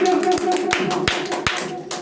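Clapping for a student topper at an English coaching class event, sharp separate hand claps near the microphone over a steady tonal hum, with a few claps popping out louder than the rest.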